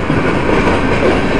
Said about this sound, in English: Train's going now, seems to be going okay.